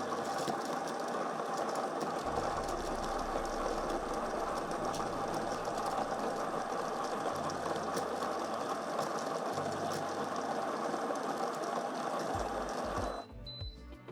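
A Dualit Espresso Pro machine grinds coffee in a steady, fairly quiet mechanical whir with a light rattle. It runs for about thirteen seconds, then stops abruptly, leaving a couple of faint clicks.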